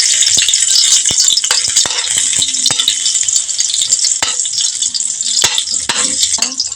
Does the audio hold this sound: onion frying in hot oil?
yes